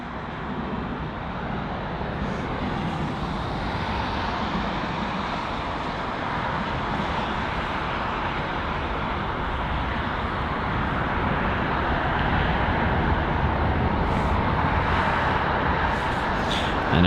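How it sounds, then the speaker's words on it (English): Faint, broad roar of a British Airways Boeing 787-10 Dreamliner arriving at London Heathrow, a steady distant whoosh that slowly swells louder toward the end. "So it's the 787-10 Dreamliner, which is arriving from New York"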